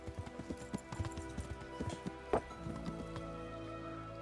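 Horse hooves clip-clopping steadily while riding in Kingdom Come: Deliverance, a rhythmic run of soft thuds at moderate distance with one louder strike partway through, no talk.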